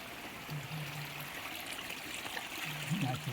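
A small spring stream in the Konkan countryside, water flowing in a steady, faint babbling rush, with a voice speaking briefly over it.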